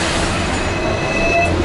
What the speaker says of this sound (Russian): Смотрите, как трамваи сильно близко друг к другу расположены.